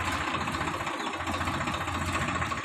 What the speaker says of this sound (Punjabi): ਰੁਕ ਜਾ ਥੋੜੀ ਦੇਰ ਅਜੇ ਟਰੈਕਟਰ ਆ